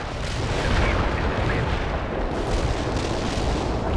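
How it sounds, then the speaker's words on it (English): Artillery barrage in the war game World in Conflict, a dense continuous rumble of overlapping shell blasts and booms, loud and unbroken throughout. "Commencing the barrage."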